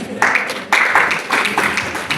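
Guests at a women professionals' gala dinner at Ciala Resort in Kisumu break into several bursts of clapping, each swelling and fading, with speech mixed in between.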